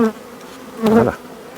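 A brief swell of buzzing honeybees, rising for about a third of a second before fading back to a quiet hum.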